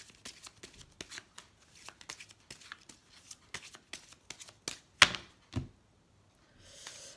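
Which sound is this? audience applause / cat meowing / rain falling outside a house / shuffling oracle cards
shuffling oracle cards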